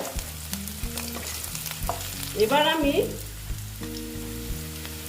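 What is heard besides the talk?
rohu fish frying in a pan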